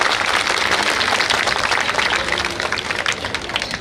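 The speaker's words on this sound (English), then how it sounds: "a big round of applause for our students over here" Parents give a loud, dense round of applause for students at a school performance, continuous clapping from a large crowd that fills the whole stretch without pause.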